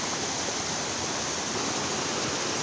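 A mountain stream flowing beneath trees gives a dense, steady rush of water, loud and unbroken throughout.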